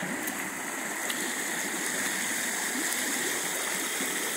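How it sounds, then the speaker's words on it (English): Creek water runs steadily over a small drop of about three feet in a stream restoration site, a continuous broadband rush and gurgle that stays even and close throughout, with no voices. "So the creek's right there."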